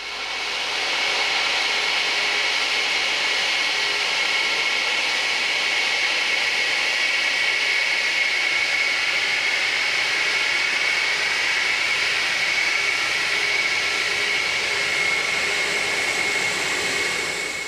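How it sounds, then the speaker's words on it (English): A Concorde supersonic jet airliner taxis past with a loud, sustained jet-engine roar and a high whine that holds steady throughout, with no voices over it. "can only look on with envy at Concorde's sleek lines as she glides past majestically prior to her supersonic soiree across the Atlantic"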